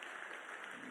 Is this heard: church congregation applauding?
yes